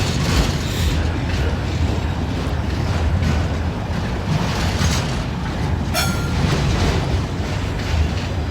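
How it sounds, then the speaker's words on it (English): A continuous, loud rumble of a train rolling past on the tracks, with gusty wind buffeting the microphone throughout. "Train with no end."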